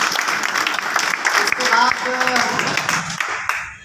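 An audience claps loudly and steadily at a Hindi-language training seminar, the dense applause running throughout while someone speaks over it.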